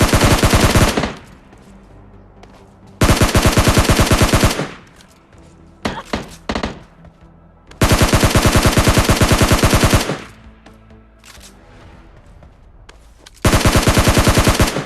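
Automatic gunfire bursts in PUBG Mobile Lite during a last-zone fight, loud sustained volleys in four long stretches with brief scattered shots between them.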